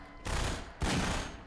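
Two heavy, booming shots from a powerful magnum-style gun in Half-Life 2, each a loud broadband blast with a short tail, spaced under a second apart.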